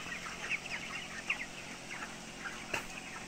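Broiler chickens, 27 days old, in a poultry house of about 7,000 birds, clucking softly in short scattered bursts over a constant background hum, with one sharper call near the end.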